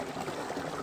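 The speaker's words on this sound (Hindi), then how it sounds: "ये देखो पानी कैसे गिर रहा है" Clear mountain stream water tumbling over stones and bubbling up, a steady close rushing wash with no talk.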